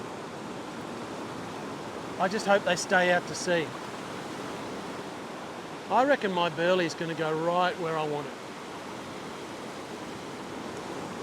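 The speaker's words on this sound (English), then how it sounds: "The waves that are breaking out in front of me are breaking on reef, not on sand." Continuous broadband roar of surf breaking on a reef off a fishing beach, steady throughout, with someone speaking over it in two short stretches.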